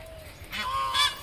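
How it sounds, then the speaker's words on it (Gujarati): A peahen near farm fields gives two nasal, honking calls, the second louder and higher, sounding at a moderate distance against quiet outdoor background. "આ ઢેલો બોલી"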